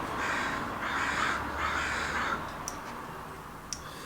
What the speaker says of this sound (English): Got a murder of crows out there, being quite vocal.